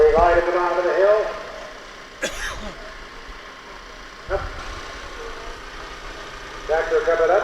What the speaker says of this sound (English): Tractor coming up the hill